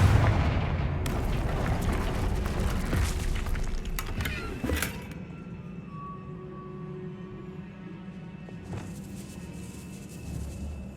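A Confringo spell explosion in Hogwarts Legacy: a heavy booming blast with rumbling debris and crackles for several seconds, then a sharp crack and a fading low rumble amid quieter game ambience.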